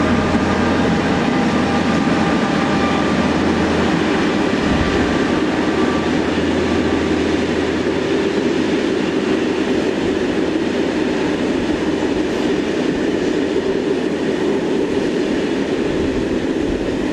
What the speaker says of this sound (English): another loaded coal train heads east, formed with German DB-owned wagons